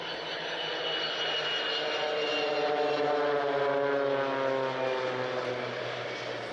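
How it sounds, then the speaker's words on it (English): An EasyJet airliner takes off, its engines a loud, sustained roar with gliding tonal whines that swell and shift as the aircraft passes. "The aircraft came into land and you just saw it taking off."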